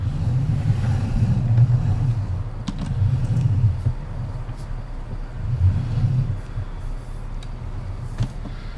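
A small truck drives along roads in a video game. Its engine rumbles low and steady and swells in a few revving surges.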